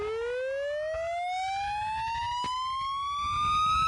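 Ambulance siren in Bhutan, a single loud wail sweeping steadily upward in pitch, clear and close, with faint background noise beneath it.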